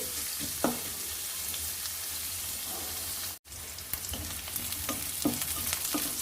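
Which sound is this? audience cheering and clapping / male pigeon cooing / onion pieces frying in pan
onion pieces frying in pan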